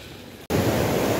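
Sea waves wash onto the beach at Golden Sands, Bulgaria, a loud, broad hiss of surf that cuts in suddenly after a brief gap and stays steady and close.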